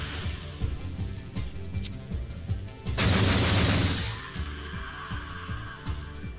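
Rapid gunfire bursts from weapons in the shooter game Project Warlock, a dense sustained volley in the middle surrounded by scattered shots, loud and close with no speech.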